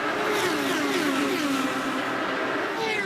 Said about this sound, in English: You can just hear those revs climb.